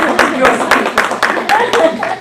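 An audience claps at a memory care presentation in a senior center, a loose run of distinct, fairly close hand claps with an uneven rhythm.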